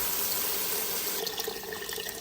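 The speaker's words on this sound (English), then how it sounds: "And now I'm gonna add some water." Water pours into a cooking pot in a steady, continuous stream, a close splashing rush with no voices.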